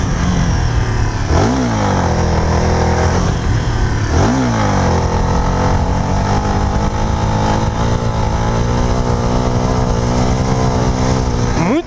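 Honda CB Twister motorcycle revving hard in second gear, close and loud, with rising engine pitch sweeps around two and four seconds before settling into a steady high drone.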